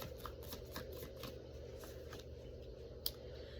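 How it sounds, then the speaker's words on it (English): A deck of cards is riffled and shuffled several times in quick bursts, soft and close, with a sharp snap near the end. "kind of just do a few here through a full shuffle"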